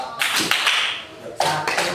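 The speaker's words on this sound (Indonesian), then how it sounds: "Bapaknya tepuk 2 kali" A man claps twice in a classroom counting exercise, two sharp close taps spaced apart, followed by a brief pause and more faint tapping.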